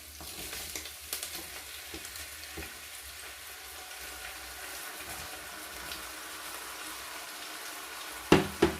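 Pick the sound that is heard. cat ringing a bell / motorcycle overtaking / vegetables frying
vegetables frying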